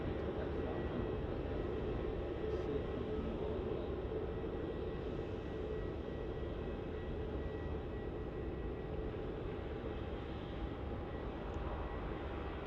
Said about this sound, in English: Coming in on final approach, we have the Rex Saab from Mildura